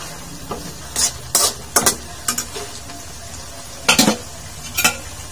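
Fern vegetables sizzle steadily in a pan with a soft frying hiss. About half a dozen sharp scraping stirs of a utensil cut through it at irregular intervals, close and clear.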